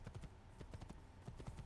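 Horse hooves clip-clop in steady, moderately loud beats on the ground in the Assassin's Creed video game, a quick run of hoofbeats over a low background din.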